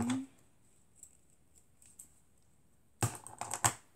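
Scissors cut through a ribbon, with a quick cluster of crisp snips and rustles near the end after a mostly quiet pause.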